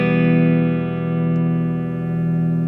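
Karl Longbottom Fulvia, a handmade electric guitar, played on its neck pickup: a sustained, warm chord rings out clearly and steadily, swelling slightly as it decays, with no talking.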